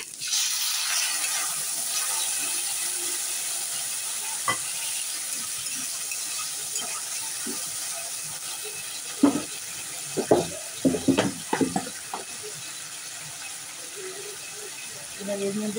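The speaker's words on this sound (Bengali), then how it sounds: "এবার একটু জল দিয়ে দিই।" Water poured into a pan of fried tomatoes with a bay leaf, giving a steady hiss and sizzle throughout, with a few sharper splashes and clinks toward the end.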